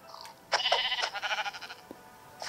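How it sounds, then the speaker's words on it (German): A sheep in the Minecraft video game bleats in one long, wavering, quavering call that stands out clearly, with a brief higher bleat just before it and another starting at the end. "Ein Schaf, ein Schaf,"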